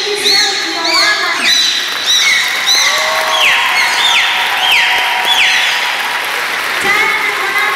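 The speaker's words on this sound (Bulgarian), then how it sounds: "Аплодисменти за Йоана." An audience claps for the dolphin Yoana at the Varna dolphinarium in Bulgaria, a moderate wash of applause mixed with high whistles and chirps while an announcer talks over it.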